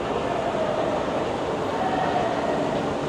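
A Rio de Janeiro metro train rumbles along at a constant level, with a faint tonal whine rising in places and no one speaking.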